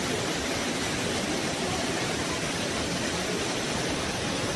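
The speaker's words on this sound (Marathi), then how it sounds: "हे पाणी लांबपर्यंत खाली वाहून जातं" Waterfall at Shivthar Ghal in Maharashtra during the monsoon, its water pouring onto rock in a steady, loud, broadband roar that stays unbroken with no voices present.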